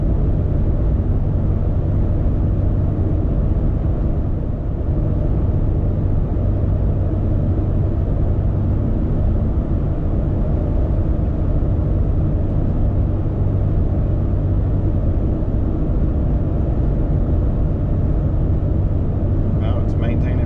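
A 2020 Ram 1500 EcoDiesel pickup towing a Kubota M4-071 tractor, heard from inside as a steady, loud low drone of engine and road noise that holds without gear changes for the whole stretch.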